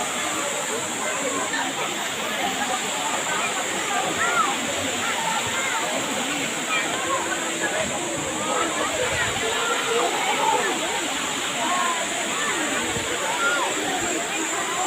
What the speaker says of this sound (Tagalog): Dyan daw banda sa may falls na yan, malakas daw agos dyan.